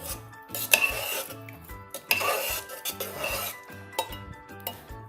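A spoon scrapes and clinks against a metal pot while mushroom biryani is stirred, with repeated close scraping strokes over quiet background music.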